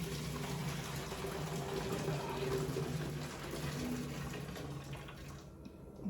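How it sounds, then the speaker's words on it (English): Water strained from a cooking pot of saltfish into a kitchen sink, a steady rushing splash that lasts several seconds and then fades out at the end, with no talking. "Strain this water off."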